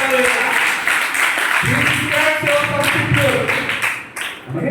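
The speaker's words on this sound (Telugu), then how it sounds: "చప్పట్లు కొట్టండి గట్టిగా" A church congregation claps loudly together, a dense patter of many hands carrying on beneath a voice as he keeps preaching over it.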